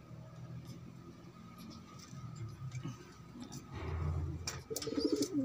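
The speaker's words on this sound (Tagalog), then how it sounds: "Kalapatids, ang ganda niya." Pigeons cooing softly in a loft, with low, faint murmuring coos set against quiet background noise and a few brief chirps near the end.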